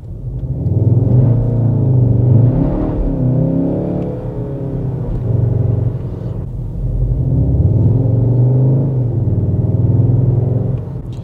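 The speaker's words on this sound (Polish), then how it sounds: "jest dograny dźwięk silnika, taki warkot, bulgot, który jest totalnie nienaturalny dla tej wersji" A 2023 Skoda Octavia RS 2.0 TDI diesel drones and rumbles in low, bubbling artificial engine tones, rising and falling as it pulls away, with no talking.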